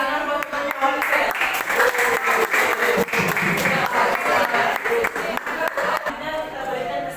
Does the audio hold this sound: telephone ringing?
no